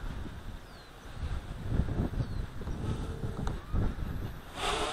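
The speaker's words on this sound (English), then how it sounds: "the wind's really coming up now" Wind gusts across the microphone outdoors on Maui, a rough, rumbling rush that rises and falls in several surges over a few seconds.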